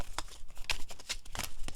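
A deck of cards is shuffled up close, several quick riffling bursts in a row with short gaps, no talk.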